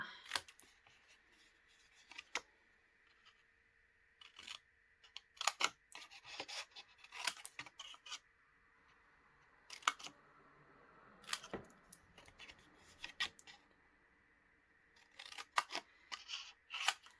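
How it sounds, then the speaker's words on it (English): Hand snips cutting tabs along the score line of a card gift box, a series of short crisp snipping clicks in scattered clusters, close and fairly quiet against a near-silent room. "I'm going to grab my snips. And I'm just going to create some tabs. So I'm going to cut down the score line."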